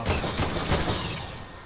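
Gunfire in the video game Fortnite: a quick cluster of loud, dense shots rolls out and fades into a lingering, noisy tail.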